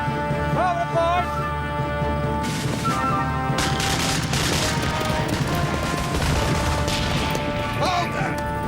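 Musket volleys and crashing gunfire fill a naval battle aboard a sailing warship, loud repeated bursts with shouted commands in the opening seconds, dense and chaotic throughout.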